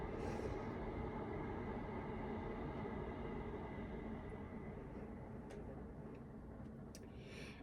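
Steady low rumble of a train heard from inside while riding, a constant dense roar that eases slightly toward the end with faint clicks, no voices.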